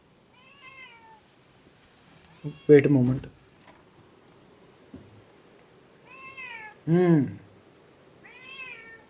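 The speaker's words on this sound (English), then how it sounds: "There's a cat on my balcony." A cat meows on a balcony in several separate drawn-out calls spread across the moment, fairly close, while a person briefly speaks a few words in between.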